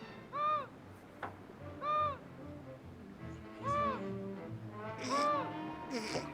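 A bird call rings out in a 1960 horror film soundtrack, a cuckoo-like two-note hoot repeated about four times at steady intervals over a murky low background.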